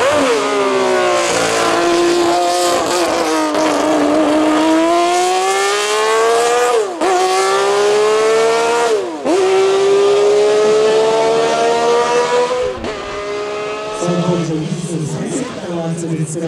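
A 1965-era Honda RA272 Formula 1 car with a 1500cc V12 revs hard during a demonstration run at the Honda festival in Tochigi, its shrill wail climbing and dropping through repeated gear changes, loud and close, with a commentator talking over it.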